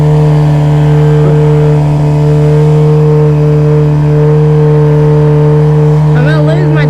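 A Suzuki GSXR750 motorcycle doing a burnout holds a loud, steady high-revving engine drone up close, with a voice briefly breaking in near the end.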